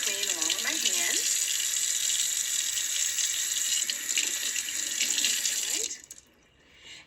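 Bell peppers are rinsed under a running kitchen tap, a steady close hiss of flowing water with brief splashy changes as the peppers and hands move through the stream, before the water cuts off near the end.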